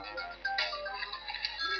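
A telephone rings in the puzzle adventure game Ghost Trick with a short, bright, warbling electronic tone that repeats steadily and stands alone at moderate volume.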